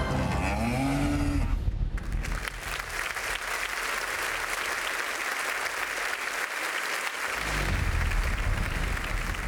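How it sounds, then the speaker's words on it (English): Cows mooing at a dairy farm, low drawn-out calls in the opening seconds, then a dense broadband crowd-like wash with applause that carries on through the rest. "These are happy cows."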